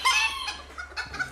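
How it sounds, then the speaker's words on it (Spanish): An old copetón fighting rooster at a cockfighting farm gives a few short, near clucks and throaty calls in quick bursts, with no voices. "Este gallo es el famoso copetón."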